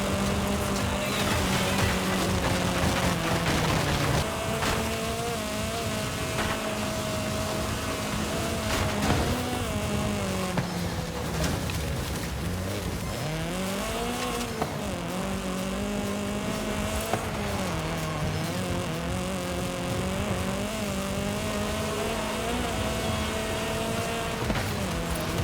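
Car engine in Forza Horizon 5 droning steadily through a long drive, with pitch rising and falling as gears shift and revs change, loud and continuous with no voices.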